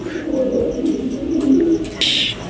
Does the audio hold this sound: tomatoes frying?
no